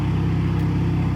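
Loud, steady exhaust drone from an Audi S5 B9 fitted with a decat downpipe, a continuous deep rumble with a pulsing low tone held close and unbroken throughout.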